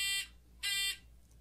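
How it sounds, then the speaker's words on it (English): A timing device gives two sharp electronic beeps, each about a third of a second long, with a short gap between them and quiet around them. "You're going to hear a beep. That's when the rock's thrown."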